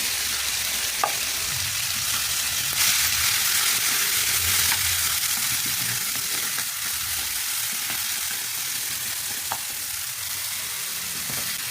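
Chili and tomato hit a hot frying pan and sizzle in a steady, dense hiss that continues with a few faint stirring clicks, close and without talk.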